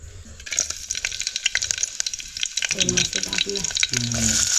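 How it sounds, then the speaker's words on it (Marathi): Onion and green chilli crackle and spit in hot oil in a pot on a village wood-fired stove, with irregular pops and stirring clinks while people talk over the second half. "तेल टाकून घेऊ आणि कांद्याची फोडणी असणार आहे कांदा आणि मिरची"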